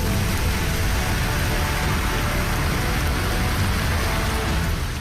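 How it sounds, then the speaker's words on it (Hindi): Heavy rain pours steadily at Sursagar lake in Vadodara, a dense, loud, unbroken hiss that may carry strong wind, with no voices. "बारिश और तेज हवा के चलते तालाब में लहरें उठने लगी।"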